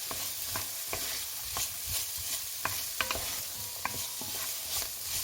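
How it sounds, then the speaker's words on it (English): Onions and mixed vegetables stir-fry in a pan, a steady close sizzle broken by repeated scrapes and clacks of a utensil stirring, with no talking. "I'm going to stir fry them a little bit, just maybe cook them for 2 or 3 minutes before I add in my mince"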